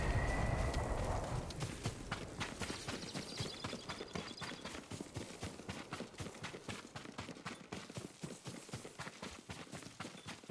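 Steady rhythmic clip-clop of horse hooves on hard ground in the video game Ghost of Tsushima, a quick regular gait continuing throughout, with a faint breathy rustle at the start.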